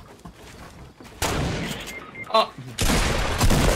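Bursts of rapid gunfire in a Fortnite match, loud volleys of shots with a short pause between them, while a player exclaims over the noise.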